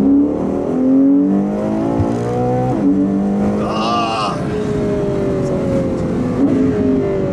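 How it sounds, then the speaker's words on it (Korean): A Ferrari Purosangue with a 725-horsepower V12 accelerates, its engine note rising steadily in pitch through the gears, fairly close and continuous. "가속 한번 해보셔도 괜찮습니다."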